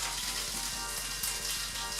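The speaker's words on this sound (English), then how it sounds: "Listen to that sizzle." Loud, continuous sizzling of chicken wings with sauce frying in a hot pan, a dense crackling hiss filling the moment with no voices.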